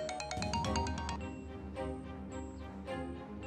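Phone ringtone of an incoming call in an Egyptian drama scene, a bright repeating electronic melody that plays steadily and fairly close, with music-like tones over a low background and no talk.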